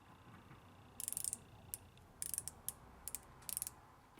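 Rapid ratchet clicks from an Accusize inside micrometer, sounding in short bursts of several clicks each with small gaps between, crisp and close against a quiet background.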